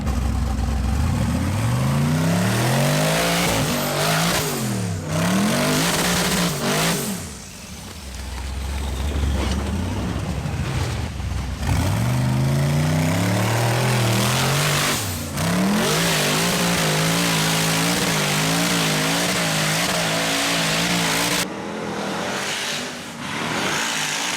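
A high-horsepower tractor on big tyres, fitted with a ProCharger, revs hard while climbing a hill at a hill-climb event. The engine roars loud and near in repeated rising and falling surges across the whole stretch, with no talking.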